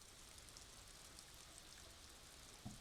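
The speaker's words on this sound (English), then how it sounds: "Beautiful rain." Rain ambience from the video game Disco Elysium, a faint, steady hiss of falling rain with soft patter and no voices.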